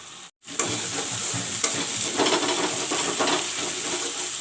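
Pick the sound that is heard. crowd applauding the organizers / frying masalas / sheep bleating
frying masalas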